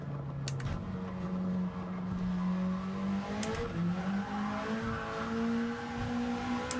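Jaguar race car in Gran Turismo 7 holding a steady engine tone with tire squeal as the wheels spin, its pitch shifting and rising over several seconds, loud and continuous.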